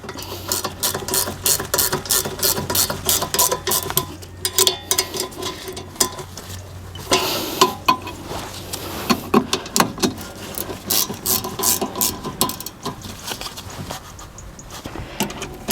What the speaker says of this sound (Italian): Riavvito con la 13 e quando inizia a ruotare il perno ci metto la 17.